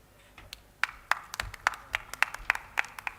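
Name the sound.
audience clapping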